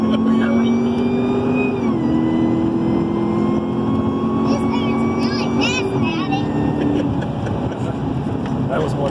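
A Cadillac CTS-V at full throttle gives a loud, steady engine roar from inside the cabin, its pitch climbing through the gears with a couple of brief dips at the shifts and wind noise in the background.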